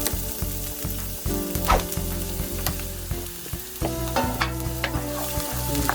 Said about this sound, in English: You just have to brown the garlic.